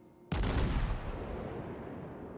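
A World of Warships cruiser battle with one sudden heavy naval gun blast from the Nürnberg or the Texas, booming loud and close and then rolling away into a long decaying rumble, with no voices.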